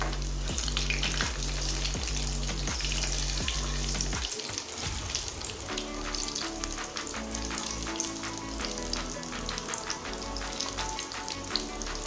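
Four eggs fry together in hot refined oil in a wide wok with a loud, continuous crackling sizzle. A brief clatter partway through marks a change, and the frying then settles into a steady hiss.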